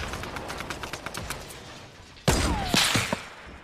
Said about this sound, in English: Some guy shooting at me with a grenade launcher.